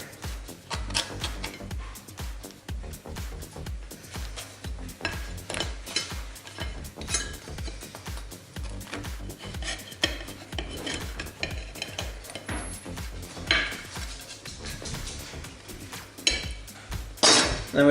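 A knife scrapes and clinks against a plate while homemade pita bread is opened into a pocket, with irregular close taps, rasps and rubbing sounds throughout.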